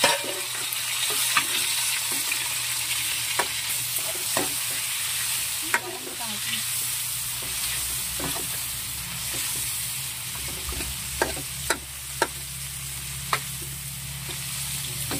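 Tomatoes frying in a pan for Filipino pakbet, a constant sizzle under repeated spatula scrapes and knocks against the pan at irregular intervals, close up with no one speaking.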